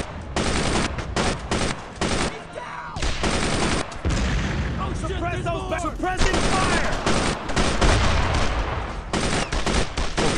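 Rapid bursts of rifle and machine-gun fire in the Brothers in Arms World War II shooter, loud, close and nearly continuous as suppressing fire, with a voice talking over the shooting.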